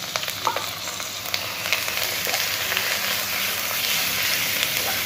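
Thinly sliced beef dropped into a hot pan of cooked onions for a Japanese beef rice bowl, giving a steady, loud, close sizzle with bursts of crackling throughout.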